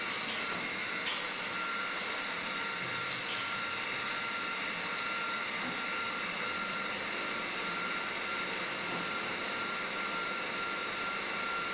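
A bottling machine hums continuously as it rinses, fills under the filler head and caps bottles, with a few faint clicks and clatters over a steady broadband mechanical drone.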